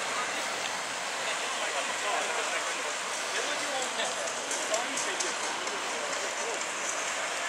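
Light rain during a city cycling event in Kharkiv, a steady broadband hiss of drizzle and wet road noise filling the whole stretch, with a voice speaking over it.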